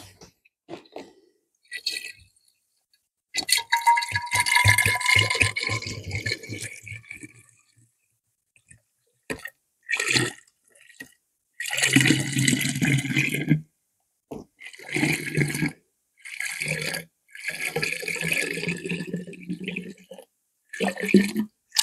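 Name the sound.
homemade walnut wine being drawn off and poured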